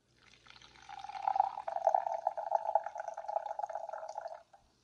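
Carbonated Liquid Death water, clear Alpine spring water, poured from an opened can into a glass, a steady bubbling fizz and splash that swells for about four seconds before cutting off, close and fairly quiet with no talking.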